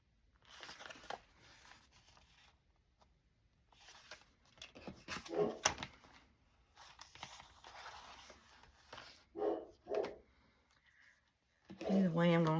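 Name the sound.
dog barking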